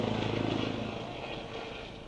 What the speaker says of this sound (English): Hey, that's a helicopter.